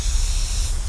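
A Gaahleri Mobius airbrush with a 0.2mm nozzle sprays paint at about 35 psi, giving a short, close, steady hiss of air and atomized paint with no voice over it.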